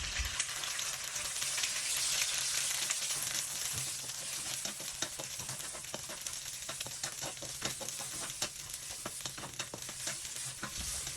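Two eggs sizzle and fry in hot oil in a pan while being scrambled, a steady dense crackle with scattered sharp pops and scraping strokes, close and continuous with no talk.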